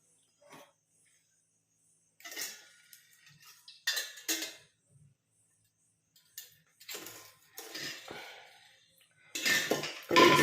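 A boiled homemade hair-oil decoction is strained into a bowl, giving intermittent clinks and scrapes of metal utensils against the vessel, with short bursts of activity separated by near-silence, close and fairly quiet.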